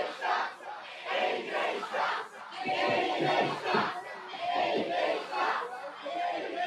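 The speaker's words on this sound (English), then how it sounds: "The crowd is really showing who they are for and against here in this matchup." A wrestling crowd at a live Canadian independent show in Sault Ste. Marie, Ontario, shouting and chanting loudly and continuously, with swelling waves of voices filling the hall.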